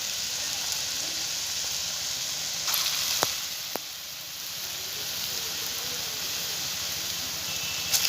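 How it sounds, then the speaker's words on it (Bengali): Lentil fritters (musuri daler bora) frying in hot oil give a steady, soft sizzling hiss, with a couple of brief sharp clicks partway through. "এরকম এক এক করে বড়াগুলো ভেজে নেব।"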